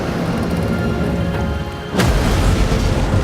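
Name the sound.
battleship Yamato capsizing and exploding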